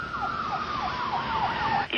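An ambulance siren from responding emergency units wails in a steady repeating up-and-down pattern, moderately loud and alone, ending with a brief clunk.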